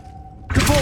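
In Hogwarts Legacy, a Glacius freezing spell bursts in abruptly after a quiet moment, a sudden bright crackling, shattering rush of icy sound.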